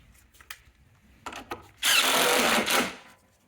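A 10mm bolt on a horn bracket of a 2008-2020 Dodge Grand Caravan is snugged up: a few light taps and clicks, then a loud, close, steady whirring run of about a second from a driving tool before it stops.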